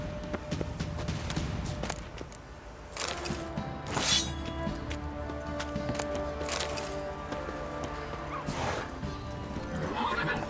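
A horse neighs and whinnies several times over steady clip-clopping hooves while being ridden on the road in The Witcher 3, with game ambience and brief voices around it.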